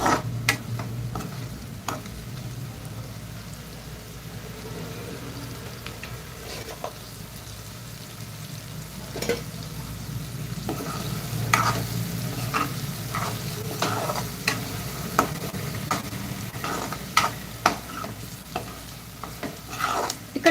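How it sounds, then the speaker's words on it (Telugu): Mutton fry with onions cooking in a pan, giving off a continuous low sizzle. Repeated spatula scrapes and stirring knocks grow busier toward the end. "మనము ఈ విధంగా ఫ్రై చేసుకుంటే మటన్ ఫ్రై అయితే ప్రిపేర్ అయిపోతుంది"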